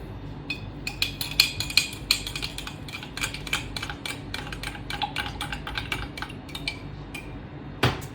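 Small cumin seeds dropped into a mixture for a homogeneous-versus-heterogeneous demonstration make a run of quick, light ticks and clinks against a container. They come close together over several seconds, with one sharper clink near the end.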